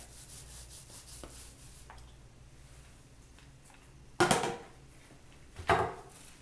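A paint roller lays stencil paint onto a surface with a soft, quiet rubbing that runs throughout, then two louder rasping strokes near the end.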